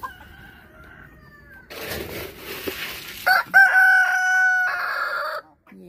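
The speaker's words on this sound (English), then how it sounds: "I'll try to edit down the crows" A rooster named Yancy crows on a farm at feeding time, two or three loud, drawn-out calls after rustling and clucking, close to the listener, with no talk.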